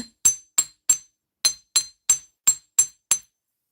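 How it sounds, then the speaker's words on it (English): A small hammer strikes metal earrings on a hard surface, ten sharp, bright metallic taps in an uneven rhythm, close and clear with nothing else audible. "so it needs more hammering because we need to stretch that back up there"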